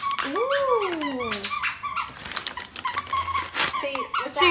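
A dog handling a squeaky gift while presents are being opened, giving sweeping rubbery squeaks and a few short whiny vocal sounds, close and loud amid the rustle of wrapping.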